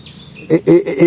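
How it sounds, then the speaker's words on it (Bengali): Birds chirp in a short burst of quick repeated calls, fairly close, in the Sundarbans mangrove forest, over a faint steady background hum. "শোনা যাচ্ছে পাখির কিচির মিচির প্রচুর কিচির মিচির করছে"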